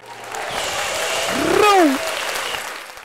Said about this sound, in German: Mach einen Applaus noch für uns.